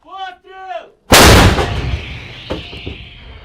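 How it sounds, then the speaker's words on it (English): Artillery shelling on the front line: after a brief voice, one loud, close blast booms and rolls away in a long echoing rumble, with a few fainter thuds after it. "the shelling seems like it could go on forever"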